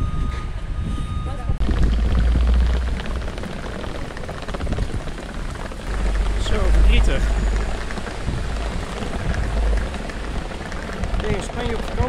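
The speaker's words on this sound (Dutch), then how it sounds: "en dan regent het." Steady rain hisses throughout, with a person speaking briefly over it and some low rumbling swells in the background.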